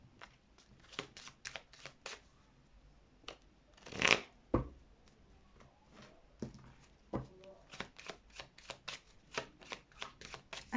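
Tarot cards shuffled by hand in a quiet room, a long run of quick riffling bursts and soft flicks, with one louder sharper slap near the middle and no talking.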